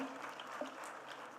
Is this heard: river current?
no